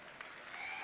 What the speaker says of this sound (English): you can applaud for guilds